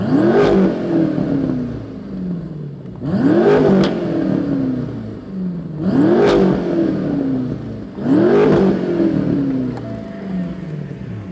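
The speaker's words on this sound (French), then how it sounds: "On entend le V8, on entend le son, c'est très cool." A BMW M6 V8 with an M Performance exhaust is revved hard four times at close range, each loud rising roar dropping back to a rumbling idle between blips.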